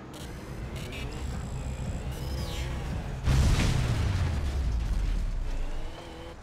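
A car wrecks in the racing game Trail Out with a loud sudden crash and a booming burst of impact noise midway, after steady engine roar and a few scraping, whining sounds; the rumble then fades out.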